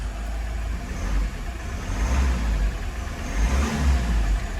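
A 2016 Ford S-Max engine runs after a timing belt repair, giving a steady, loud, low rumbling idle with slight swells in level, close by and without speech.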